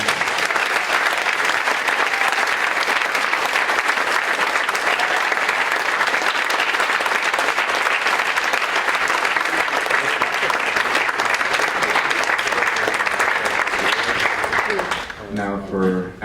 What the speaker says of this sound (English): guys want to give a round of applause for our speakers?